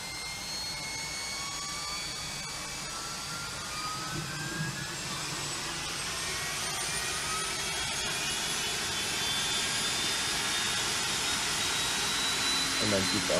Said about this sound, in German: Und jetzt hört ihr auch, wie die APU hochfährt.